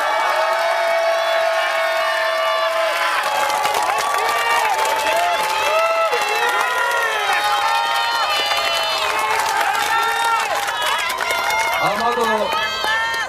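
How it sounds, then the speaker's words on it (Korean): Crowd at a Democratic alliance political rally in Gangnam cheers and claps loudly and steadily, with many voices shouting and calling out over the applause throughout. "소개 드릴 때 박수 한번 주세요"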